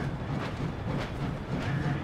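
Steady rumbling roll of a moving train in the World War II shooter game Medal of Honor: Above and Beyond, a continuous low drone with faint rhythmic clatter, heard alone.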